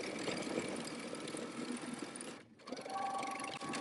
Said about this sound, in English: take it to your sewing machine. You're going to stitch it together